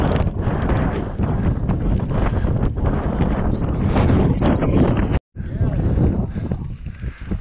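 Strong wind buffets a microphone on an exposed mountainside near the summit at about 2,000 feet in County Wicklow, a loud continuous roar with one brief dropout before it resumes.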